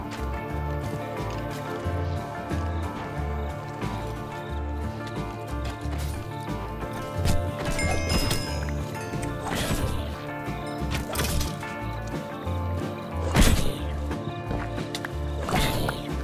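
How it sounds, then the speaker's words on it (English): Hooves of a zombie horse in the video game Minecraft clop among layered game sounds and a steady musical drone, with scattered sharp hits and crashes throughout. "here comes a zombie on a zombie horse"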